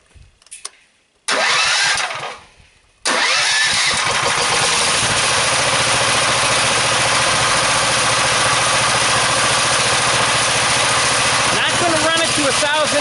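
A DC generator engine cranks briefly, stops, then catches at about three seconds and runs loud and steady as it is brought up toward 1,000 RPM, with a dense unbroken roar to the end.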